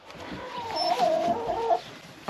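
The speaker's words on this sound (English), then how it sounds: "Another chicken." A hen clucking on a homestead in a chicken coop during a frozen winter: a drawn-out, rising and falling cluck close to the microphone, heard alone with no talk.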